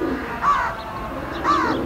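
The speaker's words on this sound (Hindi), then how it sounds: "ये देखें जी सारे कबूतर हमारे यहाँ पर बाजरा खा रहे हैं बाहर" Pigeons coo at a breeding setup, two soft, rolling coos about a second apart, close and clear over a faint background hiss, with no talk.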